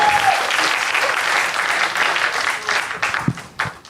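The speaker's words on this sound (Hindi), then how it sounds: "तालियां बजाते रहिए।" Audience applause at a Hindi poetry recital, a dense, close burst of many hands clapping that continues throughout and thins into a few separate claps near the end.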